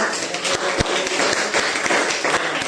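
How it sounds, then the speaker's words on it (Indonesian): A junior high school class applauds for group 4: a dense, steady clatter of many hands clapping close by in a classroom, with a few sharper claps standing out. "tepuk tangan untuk kelompok 4"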